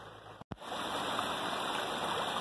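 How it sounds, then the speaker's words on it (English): Water in a springtime stream running high over smooth stones, a steady close rushing and burbling with a brief dropout near the start. "the water level in this stream is really high today"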